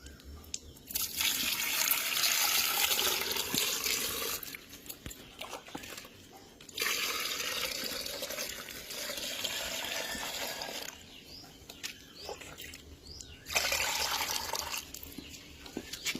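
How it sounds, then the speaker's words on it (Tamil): Water poured into a shoe, heard as bursts of splashing, gurgling liquid that start and stop several times, close and fairly quiet, with brief pauses between pours. "இப்ப இதுல தண்ணி ஊத்துற என்ன நடக்குதுன்னு நீங்களே பாருங்க."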